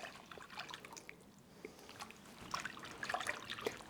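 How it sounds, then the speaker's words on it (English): Evaporated milk pours into a beignet dough mixture in a kitchen, a faint, soft trickle and dribble of liquid with a few small splashes that grow a little louder toward the end. "Now we're going to be adding evaporated milk."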